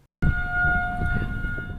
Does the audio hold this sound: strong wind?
no